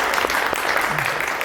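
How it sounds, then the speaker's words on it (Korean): A church congregation claps at a Christmas service, a steady wash of applause at moderate distance filling the short moment with no clear voices. "하나님께 영광의 박수를 드리겠습니다"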